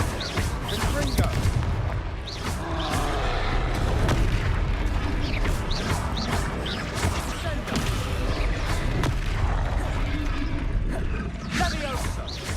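Fiery spell blasts from Hogwarts Legacy boom repeatedly amid combat clatter and mechanical creaks. The bursts come at irregular intervals against a loud, busy background, with a voice speaking over it.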